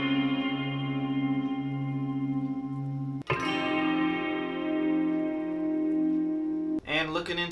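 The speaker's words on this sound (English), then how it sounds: "how I got the guitar to sound that way, mostly due to Guitar Rig here, Breath You Hold preset, as well as some additional reverb here" Guitar chords played through the Guitar Rig Breath You Hold preset with added reverb ring out in lush, sustained, shimmering layers, with a sharp new strum partway through and another near the end.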